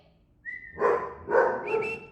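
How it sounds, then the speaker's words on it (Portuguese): A dog gives two or three short, close barks with a whiny edge, with a faint whistle-like tone just before. "Você pode parar de latir um minutinho?"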